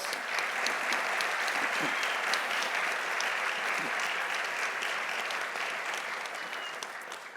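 A large audience applauds steadily to welcome Dr. John Carlos at a sport and human rights keynote event, the dense clapping holding even for several seconds and fading slightly at the end.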